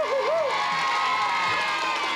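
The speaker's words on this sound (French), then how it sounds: "On l'applaudit très fort." An audience at a multiple sclerosis society event cheers and whoops loudly, a steady crowd roar that fills the whole short stretch.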